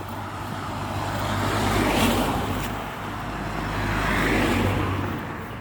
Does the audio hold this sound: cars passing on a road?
yes